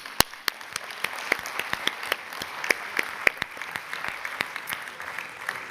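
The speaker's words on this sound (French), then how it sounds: "je pense qu'on peut les applaudir" An audience at the CFDT Services national union congress in Clermont-Ferrand gives a round of applause, a fairly sparse patter of distinct hand claps that is moderately distant and steady.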